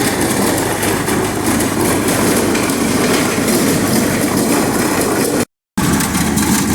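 A farm tractor runs continuously nearby, a loud, dense mechanical rumble with a steady clattering texture and one abrupt dropout near the end.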